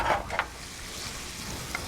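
Shrimp sizzling on a Monument Grills Mesa 400 gas grill, a steady close crackling hiss with a couple of brief louder pops near the start and one more toward the end.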